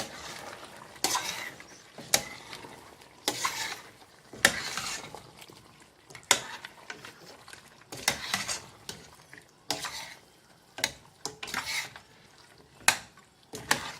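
Mutton with swede and chilli stirred in a pot: a series of irregular scraping and clanking strokes from a spoon against the pot, close and moderately loud, over a faint simmer.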